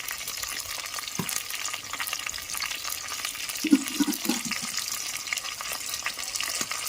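Ginger garlic paste fries in oil in a pan for a village-style chicken curry, making a constant close sizzle with a few soft scrapes and brief bubbling bursts, no voices.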